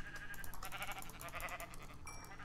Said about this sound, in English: Kill sheep.